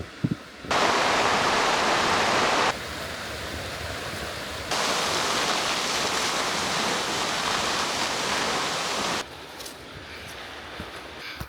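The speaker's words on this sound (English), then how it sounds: "Our first stop of the day was a waterfall, Svartifoss, that was only a short hike away from the campsite." Svartifoss waterfall in Iceland roars as a dense, continuous rush of falling water. The loudness steps up and down as the listening position shifts, with no voices over it.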